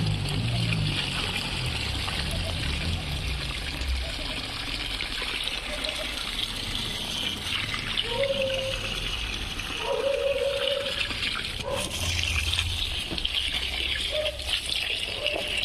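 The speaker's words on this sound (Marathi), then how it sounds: "तर मस्तपैकी एकदाच पाणी मारून घ्यायचं" Steady gushing water runs throughout as plants in grow bags in a kitchen garden are watered, a continuous pour and trickle with brief low tonal sounds midway.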